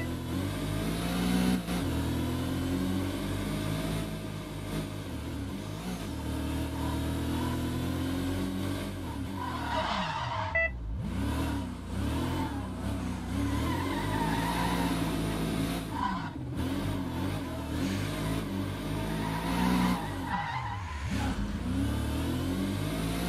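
A Mercedes W 196 racing car engine in World Racing revs hard and steadily, rising and falling through gear changes with a brief skid, loud and close for the whole stretch.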